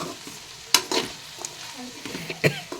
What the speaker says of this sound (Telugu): టమాటాలు వేసి కలపాలి.